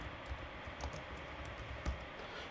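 Quiet keyboard typing on a computer keyboard while a form is filled in, with soft, rapid key taps and a few slightly louder strokes over a faint background hum.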